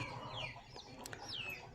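Parla breed chicks and a rooster cluck and cheep close by, with several short rising and falling calls over a soft farmyard background.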